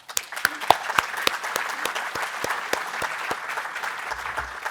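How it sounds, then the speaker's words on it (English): An audience at an award ceremony claps, and the individual claps stay distinct in a brisk, fairly sparse rhythm. The clapping is moderately close and continues steadily across the clip. "I believe these gentlemen together deserve a round of applause."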